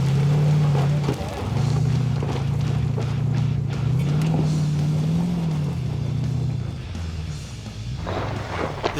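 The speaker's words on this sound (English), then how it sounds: "Peter lets the big V8 engine do the talking." A Land Rover Discovery's big V8 engine drones loudly as it climbs an off-road obstacle at a 4x4 club challenge, the steady roar shifting in pitch with a few knocks and clatters and a voice talking over it.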